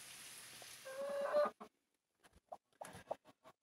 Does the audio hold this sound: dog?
no